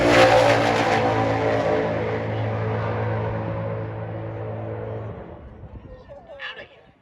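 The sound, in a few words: Plymouth Barracuda muscle car drag racing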